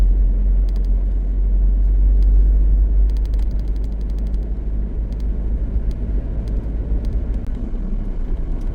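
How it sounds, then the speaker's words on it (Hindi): Steady stream of road traffic beside a forest road at Jim Corbett, cars and SUVs rolling past one after another as a continuous loud low rumble with brief brighter swells as vehicles go by. "गाड़ियाँ तो लगातार ही चल रही है"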